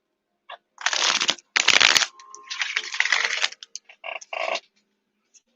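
Tarot cards are shuffled by hand in several quick riffling bursts, close and crisp, separated by short pauses and finished with a few soft taps.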